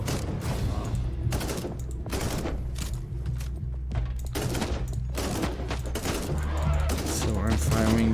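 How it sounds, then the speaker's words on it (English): Rapid bursts of assault gunner gunfire in the video game Warhammer 40,000: Inquisitor, repeated loud volleys with short gaps and low booms, with someone talking over parts of it. "So I'm firing before they can actually fire at me."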